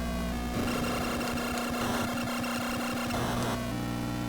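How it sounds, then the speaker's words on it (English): Synthesized car engine noise from the 1987 NES racing game Rad Racer played on real hardware, a buzzy steady electronic drone with a constant tone and shifting pitch, continuous and fairly faint. "the fucking engine noises are crazy"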